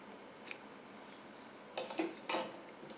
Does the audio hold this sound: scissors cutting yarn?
yes